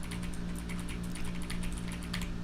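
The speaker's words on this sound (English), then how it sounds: "So that's the sound of the keyboard" Clicky Kailh blue switches on a DragonWar Atomos gaming keyboard clatter in a brief burst of quick typing, set against a constant air-conditioner drone.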